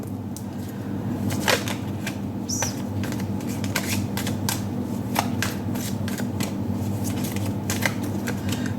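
A deck of oracle cards is shuffled close up in a quiet room. Crisp riffles and slaps repeat irregularly for several seconds with no voices.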